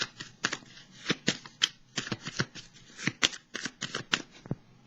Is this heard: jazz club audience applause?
no